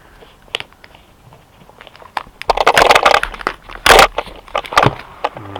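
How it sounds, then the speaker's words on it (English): Plastic shrink wrap being peeled and crinkled off a Wolfenstein 2: The New Colossus Xbox One game case, sharp close crackles and scratchy tearing bursts that grow louder and denser midway, then scattered clicks. "So we can kind of try and peel this off here"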